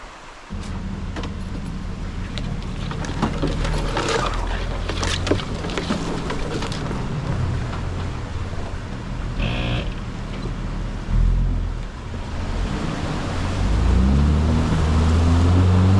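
A 4WD pushes through the water of Black River in Victoria's High Country, its engine a steady continuous rumble with sloshing and splashing throughout and a brief surge near the end.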